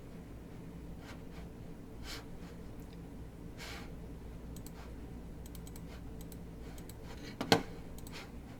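A few soft computer mouse clicks, scattered and close, over a faint steady room hum while a frozen session is reconnected during a lecture recording.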